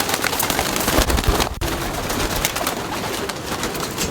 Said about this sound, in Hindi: ये भी बड़ा प्यारा कबूतर है